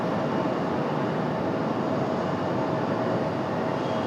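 American Airlines Airbus A321 arriving from Dallas at Raleigh-Durham airport, a steady broadband jet roar held at constant loudness throughout, with no talking.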